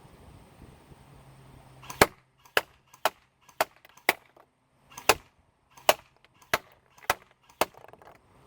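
Cyma 045C airsoft rifle shooting at a 50-foot range: about a dozen sharp, crisp snaps spaced unevenly around half a second apart, loud and close against a quiet outdoor background.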